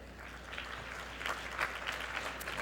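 Audience clapping at a 1995 independent film awards ceremony, a short burst of fairly faint, dense applause from a crowd, with no speech over it.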